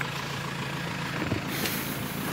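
A diesel car engine revs high, up toward about 4000 RPM, with a steady loud roar that swells slightly midway, close by and without talk.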